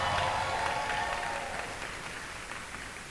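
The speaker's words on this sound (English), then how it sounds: "Another round of applause." A graduation crowd applauds at a pharmacy oath and hooding ceremony, steady broadband clapping from a large hall audience that holds fairly even and fades slightly toward the end.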